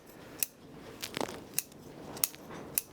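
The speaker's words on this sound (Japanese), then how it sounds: "きちんと切れるハサミで切ってあげてください" Sharp bonsai scissors snip the roots of a young deciduous bonsai during spring repotting, giving about five crisp, evenly spaced clicks with a brief rustle of roots in between, close and otherwise quiet.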